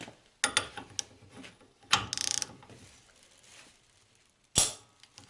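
A torque wrench set to 10 tightens a nut on front-axle parts of a Citroën Traction 11, giving scattered mechanical knocks and a short burst of rapid ratchet-like clicks, with sharp metallic hits near the end.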